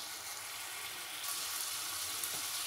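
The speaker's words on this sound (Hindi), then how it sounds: "तो हम यहाँ भून रहे हैं।" Food frying in a pan, with a steady, faint hiss and crackle of hot oil that grows slightly louder partway through, close and with no talking.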